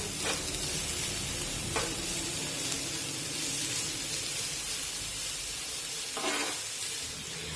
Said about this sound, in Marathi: एकसारखा हा कांदा असा चमच्याने हलवून घेऊया, म्हणजे सगळीकडून तो एकसारखा भाजला जाईल।